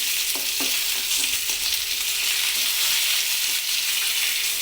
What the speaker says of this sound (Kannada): ಸಾಸಿವೆ, ಉದ್ದಿನಬೇಳೆ ಮತ್ತು ಹೆಸರುಬೇಳೆ ಕೆಂಪಾದ ತಕ್ಷಣ ಕರಿಬೇವಿನ ಸೊಪ್ಪು ಹಾಕ್ಕೊತಾ ಇದ್ದೀನಿ